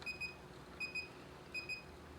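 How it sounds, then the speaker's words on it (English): An SO2 titration electrode beeps at its endpoint during a wine test: three evenly spaced pairs of short, thin electronic beeps, faint against a quiet background hum. "I need to count 20 consecutive beeps, and that means I have finished the test."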